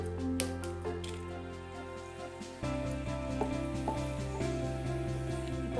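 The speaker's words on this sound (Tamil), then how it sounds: "2 காஞ்ச மிளகாய் எடுத்து பிச்சு போட்டுக்கிறேன்." Dried red chillies torn and dropped into lightly heated oil in a pan on a stove, a steady close sizzle and crackle that jumps louder partway through and keeps frying without talk.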